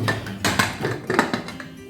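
A pressure cooker of country chicken rasam is opened after its whistle is removed, giving a series of metallic clanks and taps of lid and pot, close and moderately loud, with no talk.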